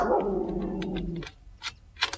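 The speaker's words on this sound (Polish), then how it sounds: "O, piesek znowu ma coś do powiedzenia." A dog growls low and rumbling at close range for over a second, then gives a few short, soft huffs and snorts, while someone nearby tightens a bicycle water-bottle battery for an electric bike.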